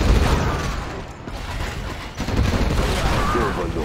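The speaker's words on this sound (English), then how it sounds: "This is the Overlord tank." Heavy rumbling of an Overlord tank in C&C Generals, a dense mechanical roar with booming cannon-like blasts and battle clatter throughout, loud and continuous, with a dip and surge midway.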